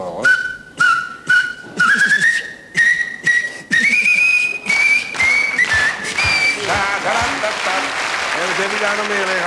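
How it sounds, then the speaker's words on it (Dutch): A glass bottle blown like a whistle, giving a sustained hollow tone in short repeated blasts that climb slightly in pitch, loud and close, followed by applause. "Je gaat even die fles fluiten, toch?"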